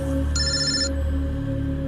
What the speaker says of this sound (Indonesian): terdengar suara telepon